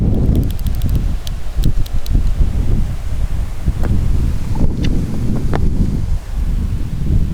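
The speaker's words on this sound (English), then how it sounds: "Incredibly windy." Strong gusts of wind buffet an outdoor park site, a continuous loud roar with surging blasts and rustling that never lets up, with a few faint clicks and taps on top.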